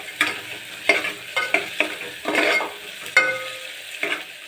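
Onions fry in a pan for upma with a soft sizzle, while a spoon scrapes and stirs in about eight distinct close strokes.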